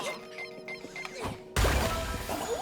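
In the Sackboy video game, a thrown object smashes with a sudden loud crash and scattering debris, bursting out after a stretch of quieter game sounds and clattering on to the end.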